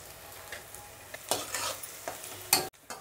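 Onion, garlic, green chillies and curry leaves sauté in oil for masala rice, sizzling under repeated spatula scrapes that grow louder toward the end, then stop abruptly; no voices.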